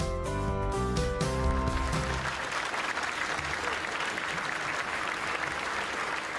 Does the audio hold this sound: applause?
yes